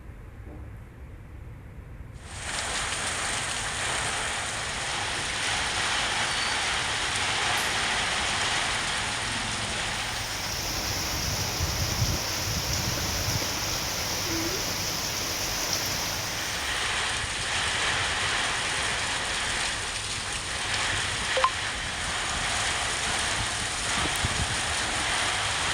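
Heavy rain driven by strong wind over the Srivilliputhur area of Virudhunagar, a dense steady roaring hiss that starts abruptly and keeps up unbroken, with no voices.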